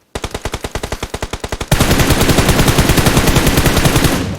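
Automatic gunfire in the mobile battle royale game PUBG Mobile: a rapid string of about a dozen separate loud shots, then a denser, continuous burst of fire that runs to the end with no talk.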